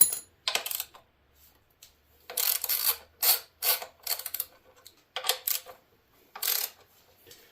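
Quick bursts of metallic ratcheting and clicking from 10 mm bolts being loosened on the factory bar of a Honda XR650L, close and crisp, coming in short irregular runs separated by brief pauses.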